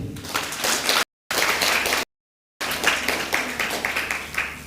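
Audience clapping at the closing ceremony of an East African summer school on optics and lasers, steady dense applause broken by two abrupt silent gaps, moderately loud throughout.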